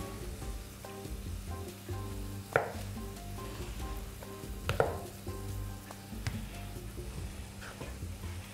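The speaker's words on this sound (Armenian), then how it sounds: "Կարտոֆիլն էլ շատ մանր կտրատում եւ ավելացնում ենք բանջարեղեններին" Boiled potato finely chopped on a board, soft knife taps in an uneven rhythm with a few sharper knocks, quiet and close, with no talking.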